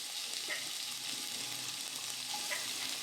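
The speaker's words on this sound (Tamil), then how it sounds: "ஸோ பொரிய ஆரம்பிச்சிருச்சு." Oil frying in a pan for poori masal, a steady close sizzle with a few small pops and crackles throughout, no voices.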